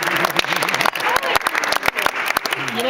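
Scattered clapping from a congregation at a baptism, sharp irregular claps mixed with cheering voices and a baby's cries, fairly close.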